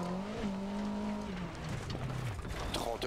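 Rally car engines in the racing game Dirt Rally 2.0 drone and shift pitch as the cars accelerate, with tires skidding on gravel and a co-driver's voice reading pace notes.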